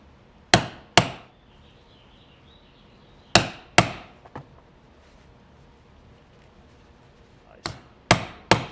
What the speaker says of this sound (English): using my 10-tine chisel here